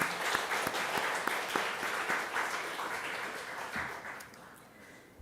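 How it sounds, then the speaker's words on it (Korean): A church congregation at a Sunday service claps to welcome a visiting singer, a full room of steady applause that gradually fades out near the end. "박수로 환영하겠습니다"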